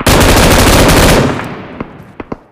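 Sustained automatic gunfire in PUBG Mobile, a loud rapid burst lasting over a second that tails off, followed by a few isolated distant shots.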